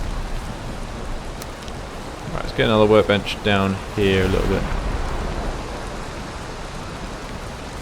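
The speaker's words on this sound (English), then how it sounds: "Oh, I just want this storm to end." A steady hiss of rain from a storm in the video game Valheim runs throughout, while someone talks over it for a few seconds in the middle.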